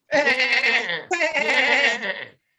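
A voice mimics a goat's bleat during a Passover community seder, giving two long, wavering, nasal cries in quick succession, loud and close, with no other sound around them.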